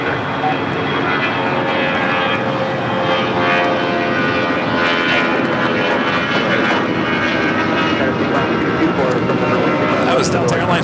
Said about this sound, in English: That was Delta Airlines Flight 1143 heading to Houston, and an A319 taking off here on the south side at 25 right.